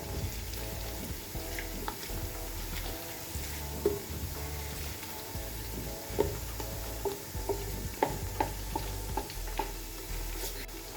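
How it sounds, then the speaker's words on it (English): Locust beans (iru) frying in a pot of hot oil, a steady close sizzle with scattered pops and crackles and a faint stirring clatter throughout, no talking. "I'm just adding in my locust beans"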